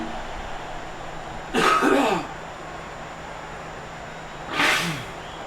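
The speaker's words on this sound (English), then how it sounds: "please excuse me as I cough and as I sneeze" Two short throat-clearing coughs into a microphone, close and loud, a few seconds apart against a steady background hum.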